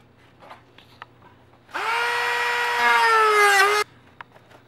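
A power tool cuts out a Kydex holster in a loud, steady, high-pitched whine lasting about two seconds, its pitch sliding slightly, with faint clicks and handling noises before and after.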